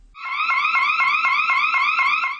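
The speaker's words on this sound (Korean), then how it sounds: "곧바로 사이렌이 큰 소리로 울리고 화장실 밖에 달린 경광등도 요란하게 번쩍입니다" A loud electronic emergency siren in a women's restroom wails in rapid repeating pulses, a steady warbling alarm that starts abruptly and holds for a couple of seconds.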